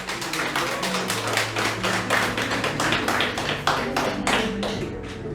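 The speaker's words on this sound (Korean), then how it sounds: "그 빵을 주신 하나님, 그걸 가져오신 우리 김건호 집사님 박수로 하고 축복합니다" A church congregation claps for a member who brought bread to the Sunday service, a steady stream of closely spaced claps over a low sustained musical hum.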